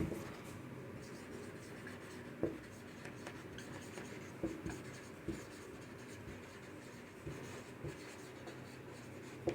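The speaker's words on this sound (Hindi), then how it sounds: "चलिए यहीं लिख लेते हैं।" Pen or chalk writing by hand during a Hindi literature lesson on a T.S. Eliot poem, with faint scratchy strokes and occasional taps over steady room noise and no speech.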